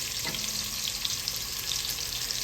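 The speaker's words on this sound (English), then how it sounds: "And then we're gonna put our garlic in there." Garlic fries in a pan for a spicy Cajun shrimp and sausage pasta sauce, giving a steady, close sizzle and crackle with faint stirring and no voices.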